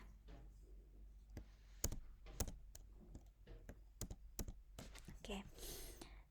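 Someone types on a computer keyboard, giving quiet, irregular clicks and taps with short pauses, while soft voice or breath sounds stay in the background.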